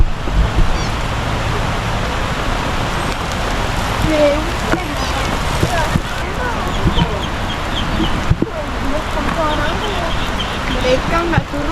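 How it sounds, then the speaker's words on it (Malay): Heavy rain falls in a steady wash across the whole stretch, while chickens cluck nearby and people talk over it. "Hujan amat. Hujan amat."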